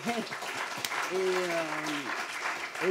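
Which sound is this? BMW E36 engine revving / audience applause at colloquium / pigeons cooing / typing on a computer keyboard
audience applause at colloquium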